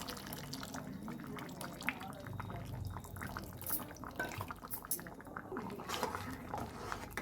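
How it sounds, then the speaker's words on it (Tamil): Tamarind water poured into a pot of drumstick and brinjal sambar gives a soft, steady splash and trickle, with faint dripping and liquid gurgle running throughout. "இப்போ வந்து புளி கரைச்சி ஊற்றிடலாம்."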